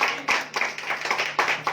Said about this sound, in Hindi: प्रभु की ताली बजा के धन्यवाद करेंगे